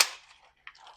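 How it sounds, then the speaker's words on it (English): A magazine pushed into a 3D-printed MP5 Odin adapter gives a sharp plastic-and-metal click up close, followed by a fainter second click a moment later. "you just gotta push it in. It is a really nice snug fit. Let me get the mag here. Load that."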